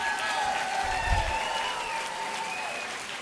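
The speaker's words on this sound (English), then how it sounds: "let's give Secretary of State Hillary Clinton another round of applause." Audience applause at a presidential forum, a steady wash of clapping from a large crowd heard at a distance, sustained throughout with a faint tonal hum underneath and no speech.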